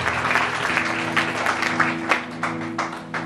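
A church congregation breaks into applause, a dense wash of clapping with a few sharper individual claps standing out, sustained steadily over a low organ-like tone.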